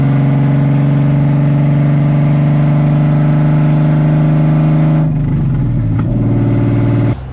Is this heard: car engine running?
yes